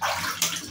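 Bathwater splashes in short bursts as a three-year-old child scoops water onto her face in the bath, close and fairly loud, with no speech.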